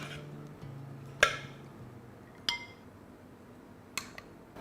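Plates and dishes clinking while beetroot burgers are plated, three sharp separate clinks of crockery spaced a second or so apart over a quiet kitchen background.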